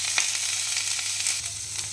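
Neem leaves, washed and dried, frying in oil for a crisp bitter side dish, giving a steady close sizzle with soft crackles and no talking.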